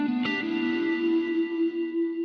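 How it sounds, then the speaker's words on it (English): A sustained tone rings out with a long, smooth reverberant tail after a brief percussive hit, as if played in a large echoing space, processed through a convolution reverb in the Beam multi-effects plugin. "This is the convolution reverb, the impulse."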